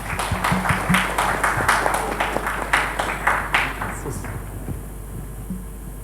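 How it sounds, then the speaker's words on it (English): Applause from a seminar audience at a policy research launch, a steady patter of many hands clapping for several seconds before tapering off into room noise. "let's give a round of applause to our experts here"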